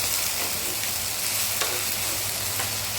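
Chopped tomato, green chili and garlic fry in a pan as they are stirred, giving a steady close sizzle broken by a few soft scraping strokes, with no voices.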